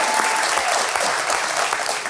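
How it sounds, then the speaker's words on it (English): A studio audience applauds steadily for a returning guest at a live St. Louis city event, a dense, even wash of clapping held at full strength for the whole stretch, with no voices over it. "Let's give them a round of applause."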